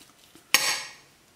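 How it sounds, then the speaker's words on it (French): A knife cuts a slice of cooled ham in a single quick, close stroke, a sharp scrape against the plate that fades in under a second. "On va s'en couper une petite part quand même."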